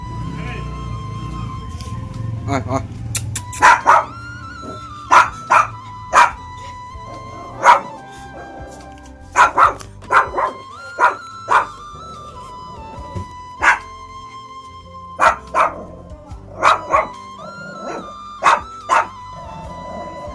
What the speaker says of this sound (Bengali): এই কুকুরটা আর বড় হয় না, এরমই থাকে।